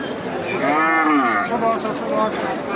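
A cow moos loudly at Chandimura cattle market in Comilla district, one long drawn-out call rising and falling, followed by a shorter low call over a steady murmur of market crowd noise.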